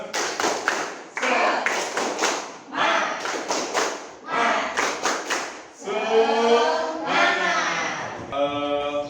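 A classroom group performs rhythmic patterned clapping in bursts of quick claps separated by short pauses, then voices begin singing together near the end.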